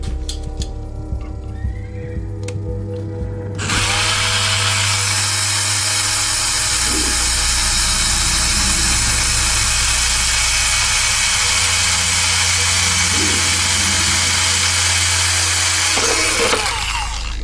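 A power drill bores through a thick Pro-Line body shell for an RC 1946 Dodge Power Wagon wrecker at the headlight area, running as a loud, steady, high whine for about thirteen seconds after a few quieter handling sounds.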